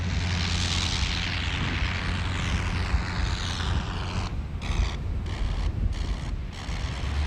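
The engine of a Maurice Farman bomber from around 1915 drones loudly and steadily with a propeller hum and wind rush, then breaks into several short rhythmic dips near the end.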